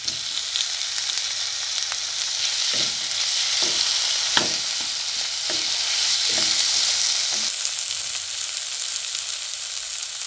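Spice paste with nigella seeds and chopped tomato fries in oil for a rohu fish and potato curry, a continuous close sizzle broken by a series of sharp scraping stirs at irregular intervals.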